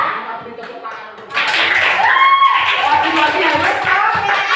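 Students clap together in a classroom, a sudden loud, dense round of hand claps that starts after a teacher speaks and continues with chatter and voices mixed in.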